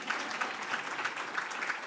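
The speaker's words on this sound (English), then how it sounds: "As the first woman, I think I require a round of applause" An audience at a university founders lecture and gala dinner claps in a steady, sustained round of applause, fairly distant and even in level throughout.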